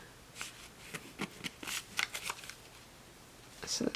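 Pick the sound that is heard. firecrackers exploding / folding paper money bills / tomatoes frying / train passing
folding paper money bills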